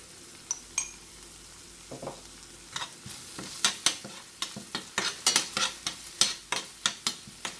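Vegetables seasoned with salt and chili flakes being stirred in a pan, a quiet sizzle under a run of sharp spoon scrapes and clinks against the pan, rhythmic and close.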